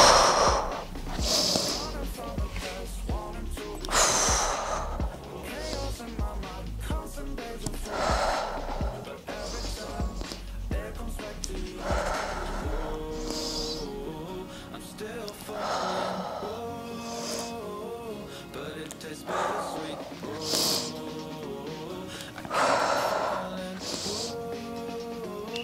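Steady inhales and exhales during a pilates ab exercise, rhythmic breathing repeating every couple of seconds over the whole stretch, layered under spoken instruction and soft background music.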